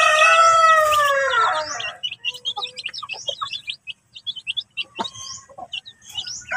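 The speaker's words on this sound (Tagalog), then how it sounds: "At ito po ang ating bagong sisiw mga ka-farming." Rhode Island Red chicks peep and chirp in rapid, high, irregular bursts close by, following an opening loud bird call that fades after two seconds.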